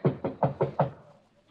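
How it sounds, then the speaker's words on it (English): Five sharp knocks on a bedroom door in a radio drama sound effect, evenly spaced and close, fading to quiet afterward. "Better knock harder."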